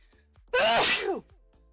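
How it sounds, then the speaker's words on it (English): A single close sneeze bursts out sharply after a quiet moment, then silence returns. "ooh, I have to sneeze."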